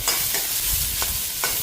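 Onions frying in a pan, a soft steady sizzle with a few brief scraping stirs of a utensil, close and fairly quiet, no voices.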